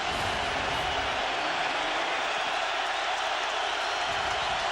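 A Seattle Seahawks home stadium crowd roars during an NFL game against the San Francisco 49ers, a loud, sustained wall of crowd noise that holds steady without a break.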